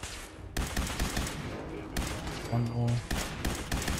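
Gunfire in Fallout 4 comes as repeated bursts of rapid shots that cut in and out, with brief gaps between volleys, while someone speaks briefly over the shooting.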